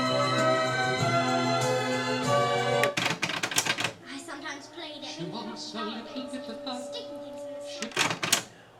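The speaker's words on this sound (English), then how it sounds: "Now this is auto reverse, so let's reverse the tape." Sony MHC-MG110 compact component system cassette deck switching into auto reverse, a run of close mechanical clicks and clunks from the tape mechanism cutting across playing music, which then resumes more quietly.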